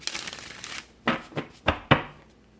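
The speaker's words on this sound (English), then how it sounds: "Shuffle these cards." A deck of tarot cards is shuffled up close: a riffle of rustling, then four separate soft slaps and flutters as the cards are handled again, with no talk.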